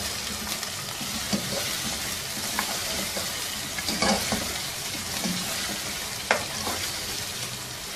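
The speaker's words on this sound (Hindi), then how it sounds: "दो तीन मिनट इसको अच्छी तरह से पकाया है, गोश्त की रंगत तब्दील हो चुकी है।" Mutton pieces sizzle and fry in a pot while being stirred, a continuous crackling hiss broken by scraping stir strokes at irregular intervals.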